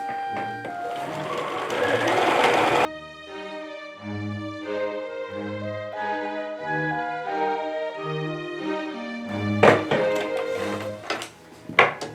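A sewing machine stitches a fabric neck and back pillow, running in a loud, continuous whir, then stepping through a series of slower, rhythmic stitches before a few clatters and bumps at the end.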